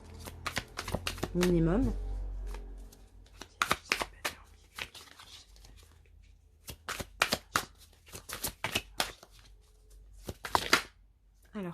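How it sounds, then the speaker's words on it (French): Lionne oracle cards are shuffled in a tarot reading, with a series of sharp, quick riffling bursts and flicks spread across the clip, close and crisp, alternating with someone speaking softly in between. "On continue maintenant avec l'oracle Lionne et on va prendre 4 cartes"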